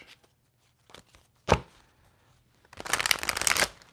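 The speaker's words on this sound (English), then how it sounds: "That was a nice shuffle." Tarot card shuffling: a couple of quick riffle snaps, then a longer dense riffle of cards cascading together, close and crisp, with no talking.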